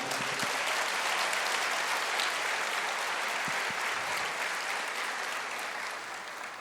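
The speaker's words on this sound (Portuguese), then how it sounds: "Você pode aplaudir o Senhor?" A church congregation applauds steadily, a dense sustained wash of clapping that fills the room and slowly tapers toward the end.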